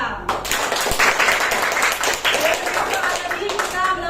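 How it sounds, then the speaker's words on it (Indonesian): A classroom of students applauds group 2 after their presentation, a dense, continuous round of hand clapping in a room lasting several seconds, fairly close and loud. "beri tepuk tangan buat kelompok 2 yang sudah mempresentasikan hasil diskusi mereka"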